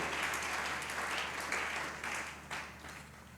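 A congregation at an evening worship service applauds and cheers in praise of the Lord, a soft, distant wash of clapping with swells of voices rising and falling throughout.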